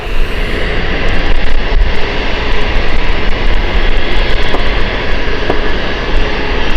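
A TAP airliner on the Lisbon flight at Gatwick Airport roars with a steady, loud jet-engine drone that holds unbroken throughout.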